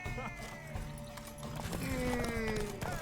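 Horse hooves clip-clop steadily across ground in the video game The Witcher 3: Wild Hunt during a race, with a brief whinny and other game sounds mixed in.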